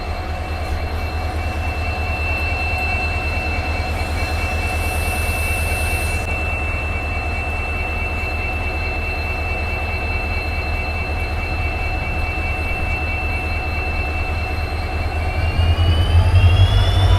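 A WDP4D diesel locomotive idles steadily at Rameswaram station while coupling to a train, giving a constant low engine drone with whining tones, and the rumble swells slightly near the end.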